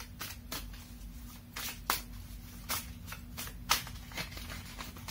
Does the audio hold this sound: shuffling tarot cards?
yes